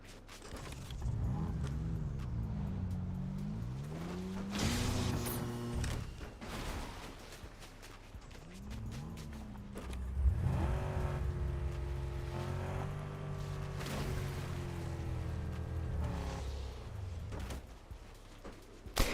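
A vehicle engine in the game Fortnite revs and shifts through rising and falling pitches, driving steadily and loudly throughout with occasional clunks.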